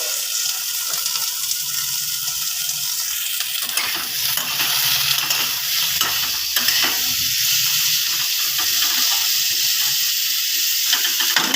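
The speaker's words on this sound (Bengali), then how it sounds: "বেগুনটা দিয়ে ভালো করে সাঁতলে নেব আগে মিনিট তিন চার" Brinjal sautéing in a pan with the lid on, a steady close sizzle and hiss with stirring scrapes, no voices.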